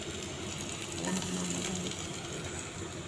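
Butter with onions frying in a pan for mushroom pink pasta gives a steady, close, crackling sizzle with faint stirring scrapes throughout.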